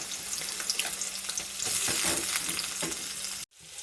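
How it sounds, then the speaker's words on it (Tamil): Onions sautéing in oil in a pan, a steady close sizzle with scraping stirs throughout, ending abruptly. "வெங்காயம் நல்லா வதங்கணும்."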